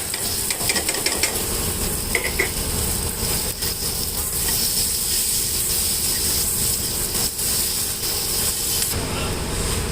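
Turmeric and potato pieces sizzle steadily in a hot pan for an aloo curry masala dosa filling, a continuous loud hiss with occasional stirring clatter throughout.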